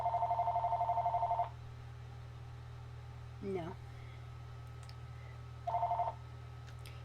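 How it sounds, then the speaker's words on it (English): Telephone ringing inside SimCity, a steady electronic tone repeated in a warbling burst, then silence, then another short burst, over a constant low hum; one brief spoken word sits between the rings. "That's the phone."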